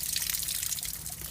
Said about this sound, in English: Just a little bit of a leak.